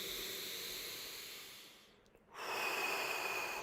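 Deep exhale during a Tummo breathing session: a long, breathy rush of air that fades to near silence, then a strong, close inhale that starts abruptly and holds steady.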